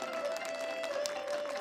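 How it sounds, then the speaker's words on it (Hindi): Applause from an audience at a devotional evening event, a steady broadband patter of clapping throughout under a sustained tonal background. "जोरदार तालियां लगा दीजिएगा,"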